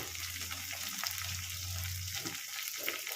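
A small tomato and a few chopped green chilies fry in a pan with a soft, even sizzle and a low hum underneath, quiet and close, with no talking.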